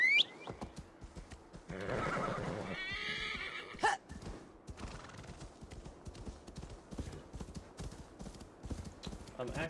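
Horse neighs and hooves clip-clop as a rider mounts and sets off in Assassin's Creed Valhalla, with a sharp whinny early on, then steady trotting hoofbeats and ambient game effects throughout.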